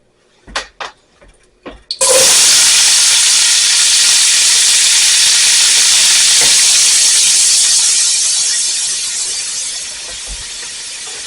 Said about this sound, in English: Now let's put our onions in.